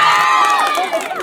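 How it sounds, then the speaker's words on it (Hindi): Loud shouting and cheering from a street-play audience at a Maithili comedy performance, voices rising and sliding together in a brief, dense burst that eases slightly toward the end. "एक बेर जोरदार ताली बजा के हल्लो करू"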